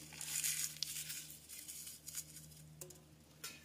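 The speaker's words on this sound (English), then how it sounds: "We're going to crumple up our two names." Slips of paper bearing names are crumpled by hand for a giveaway drawing, giving a steady close crinkling and rustling with a few sharper crackles, with no talk.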